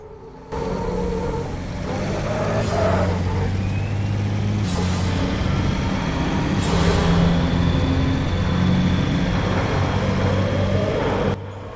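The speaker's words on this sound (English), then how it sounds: "when you shift up the gears, you can hear that huge turbo in the back going on and off" A race truck in RaceRoom, heard inside a tunnel, drones loudly and steadily with a low engine rumble, while hissing bursts from its large rear turbo rise and fall as gears shift.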